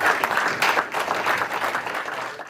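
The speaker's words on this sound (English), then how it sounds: "Got to hear the room clap first." A room full of people clapping after a 49ers draft pick, Nick Martin, a linebacker, is introduced. The applause is dense, steady and fairly close, fading slightly toward the end.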